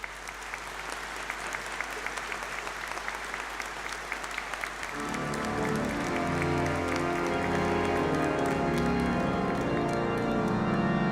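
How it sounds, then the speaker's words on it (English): A hall full of graduates and guests at a graduation ceremony break into sustained, rain-like applause, and about halfway through, music swells in underneath the clapping and carries on with it. "You all deserve a huge round of applause."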